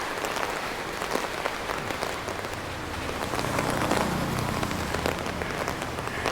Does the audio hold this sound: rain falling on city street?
yes